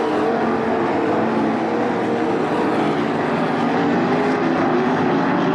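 305 sprint cars roaring around the dirt oval at Attica Raceway Park during a heat race, a loud continuous engine drone filling the whole stretch with steady revving and no break.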